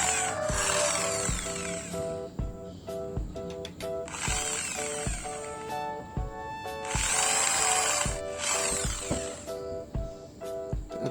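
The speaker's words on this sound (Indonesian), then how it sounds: "Selanjutnya saya akan melakukan pengeboran di sini" An electric drill bores a hole with a 2 mm bit while modifying a Shimizu water pump, its motor whirring in several bursts with rhythmic clicks and knocks between them, close and alone without talk.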